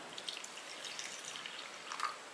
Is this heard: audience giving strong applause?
no